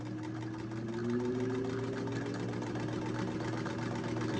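A household sewing machine winds a bobbin with a steady, fairly quiet motor whir and a faint mechanical hum and rattle that hold even throughout, with no speech.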